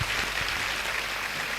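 A crowd applauds at a yoga festival gathering, a dense, steady wash of clapping that holds at an even level across the short stretch with no voices over it.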